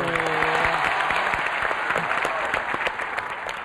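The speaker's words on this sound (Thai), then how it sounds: "ผมขอเสียง ปรบมือให้น้องทั้งสองทีม" An audience applauds two student teams at a science competition, giving close, dense, lively clapping that carries on evenly, with a brief voice audible at the very start.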